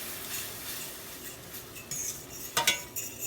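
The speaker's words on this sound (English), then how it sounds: "You want to continue stirring whenever you add flour to your heated pot." A spoon scrapes and clinks against a pot while stirring a garlic, flour and heavy cream sauce for a creamy garlic shrimp sauce, soft steady rubbing with a few sharper clinks near the end, close and quiet.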